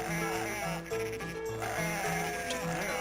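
Sheep bleat repeatedly in the Dreamcast video game Cool Herders, clear cartoonish bleats over busy game music, loud and close.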